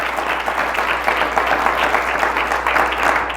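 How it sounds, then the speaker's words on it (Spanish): A church congregation claps loudly during a sermon, a dense and continuous burst of many hands with a low steady hum beneath, holding an even intensity from start to finish. "Si usted lo cree, dele un fuerte aplauso."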